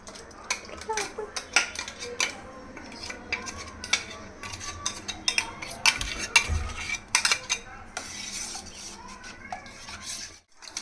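Tamarind water stirred into a spice paste of ginger, mint, green chilli, coriander and cumin in a bowl for golgappa, with close clinks and scrapes of a spoon against the dish in a busy irregular rhythm.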